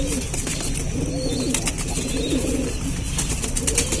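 Pigeons at a home loft in Lucknow coo in low, rolling phrases, repeating close by over a dense, steady backdrop of other birds and ambient noise.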